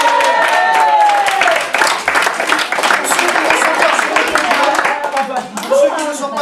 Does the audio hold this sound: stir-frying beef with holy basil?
no